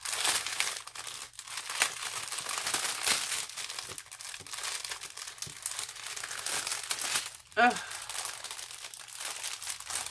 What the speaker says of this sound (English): Trying to give you little crinkle.